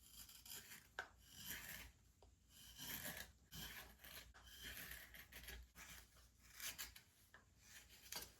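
Knife carving and thinning a wooden spatula: repeated rasping, scraping strokes of the blade across the wood in an uneven rhythm, close but very quiet, no talking.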